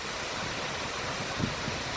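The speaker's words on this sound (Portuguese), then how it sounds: "Olha que linda cachoeira" Steady broadband rush of falling water from a waterfall at the source of a river near Capitólio, Minas Gerais, continuous and moderately loud with no talk over it.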